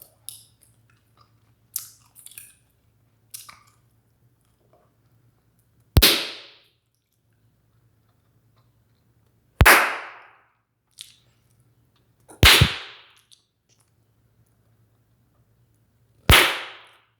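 Bubblegum bubbles are blown and burst, with four loud sharp close pops spaced a few seconds apart between faint chewing and smacking sounds.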